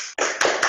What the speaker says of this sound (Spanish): Nos aplaudimos.